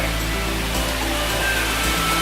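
Water pours at a feature inside Sunac Land amusement park in Xishuangbanna, China, a loud, steady, unbroken rush close by, with no talking.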